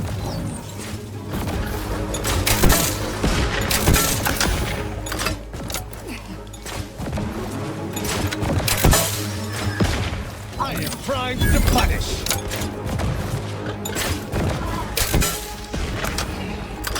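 Dense, rapid gunfire from a weapon in The Outer Worlds 2, loud, close bursts clattering over a busy combat mix for the whole stretch.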